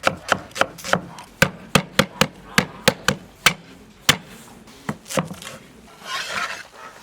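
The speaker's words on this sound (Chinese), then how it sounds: "切点葱姜、洋葱、香菜" A knife chops scallion, ginger, onion and cilantro on a wooden board, a fast run of crisp, evenly spaced thuds up close that slows into a few scattered strikes, followed by a brief rustle.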